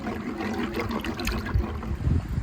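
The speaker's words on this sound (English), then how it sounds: "Making halva starts with melting butter in a large pan until it's hot and bubbling." Butter melts and bubbles in a large pan for halva, a soft, close sizzle with faint popping bursts that runs steadily throughout.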